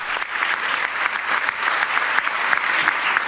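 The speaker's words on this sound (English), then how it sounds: "you can see they are standing and applauding as she takes the podium" A standing audience at the United Nations applauds as a speaker takes the podium, sustained dense clapping from a large crowd, even and full with no talk over it.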